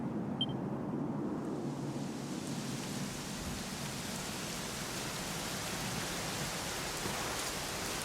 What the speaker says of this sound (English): You know, it was raining like this the last time I ever saw her.